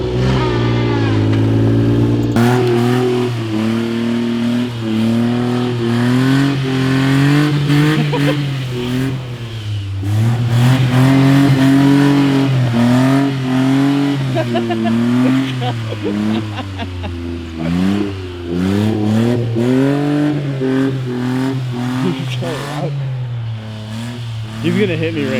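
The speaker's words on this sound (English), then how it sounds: "You put it in 2-wheel? Sick burnout, Jake!" A 4-liter kei truck engine revs hard in two-wheel drive during a burnout in snow, loud sustained droning with rising and falling pitch, while people talk and shout over it.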